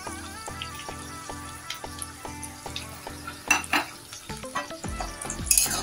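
Chili chicken is stirred with sauce in a pan, giving a soft ongoing sizzle under repeated spatula scrapes and light metal clinks that grow louder toward the end.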